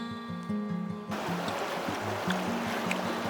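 Snowmelt river rushing through the Vallée d'Abondance in the French Alps, a broad steady roar of flowing water that surges in after a quieter start, with a tonal hum and music-like notes underneath.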